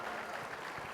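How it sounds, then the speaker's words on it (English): Audience applause at a live online event, a brief, faint, steady wash of clapping with no talk over it. "let's give them another huge round of applause."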